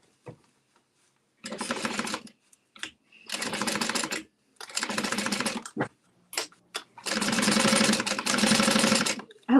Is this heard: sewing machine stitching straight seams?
yes